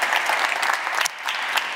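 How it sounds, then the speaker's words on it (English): Warm, steady audience applause at a government conference session, a dense burst of clapping from a seated crowd, brief and fairly loud. "A big round of applause to Kaya Gallas."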